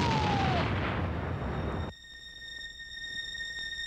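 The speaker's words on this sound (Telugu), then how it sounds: "దీంట్లోనే టైం బాంబు ఉంది. పేలిపోతుంది పారే." A time bomb explodes in a Telugu comedy film, a loud rumbling roar lasting about two seconds that cuts off abruptly into near silence, leaving faint steady high tones.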